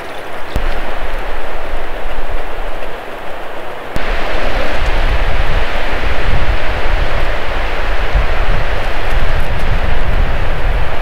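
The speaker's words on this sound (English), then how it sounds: "it's a windy one today" Wind blows steadily and loudly outdoors in the wilderness, a dense broadband rush with deep low rumbling buffeting that strengthens partway through, with no talking.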